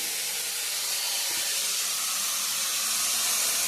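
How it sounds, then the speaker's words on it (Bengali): Potatoes fry in hot oil in a pan for a meat curry, a dense steady sizzling hiss that stays loud and even throughout. "এইদিকে মাংসর জন্য আলুটা ভেজে রাখছি"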